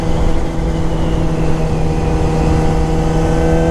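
A 2014 Yamaha R6 sport bike running a Yoshimura exhaust with the catalytic converter and exhaust servo removed, its engine a loud, steady, close drone with no speech over it.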